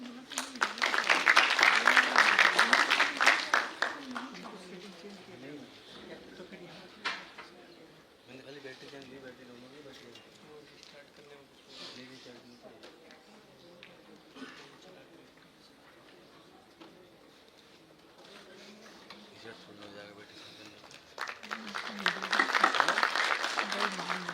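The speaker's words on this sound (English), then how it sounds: "Let us welcome them with a huge round of applause." Applause welcoming guests at a foundation day ceremony of a national statistics training academy, loud broadband clapping at the start that fades into quieter murmuring and rises again near the end.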